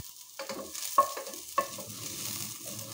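Sliced onion and garlic dropped into hot oil in a pan for a sautéed dish, a soft sizzle broken by a few sharp clinks and scrapes of a utensil, close and moderate, with no voices.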